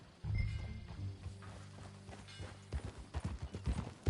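Horse hooves clip-clopping at a walk in Red Dead Redemption 2, a quiet, steady patter of hoofbeats followed by a quicker cluster of louder steps near the end.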